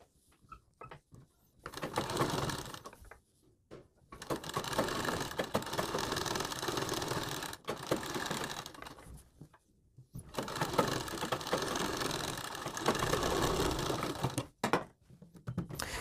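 A sewing machine stitches around a kurti neck lined with buckram, running in steady whirring bursts of a few seconds each that are separated by short pauses.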